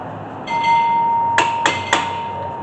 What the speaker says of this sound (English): Give a few taps with a hammer just to tighten it up.